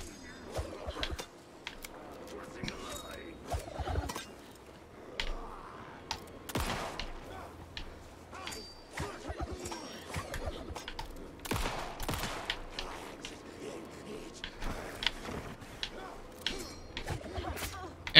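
Rifle gunfire in the survival horror game Alan Wake 2, with sharp repeated shots scattered unevenly across a tense fight, set against a low rumbling game ambience and occasional heavier impacts.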